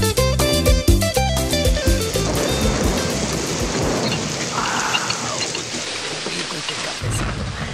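Heavy, cold rain pours steadily while thunder rumbles loudly, filling the whole stretch. Tonal music sounds briefly at the start and a voice may be faintly present.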